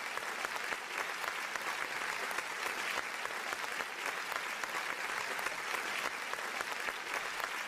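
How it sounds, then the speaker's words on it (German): Steady, dense applause from a virtual studio audience in the German Who Wants to Be a Millionaire video game, a continuous even clatter of clapping with no talk over it. "Ey, Applaus weiter."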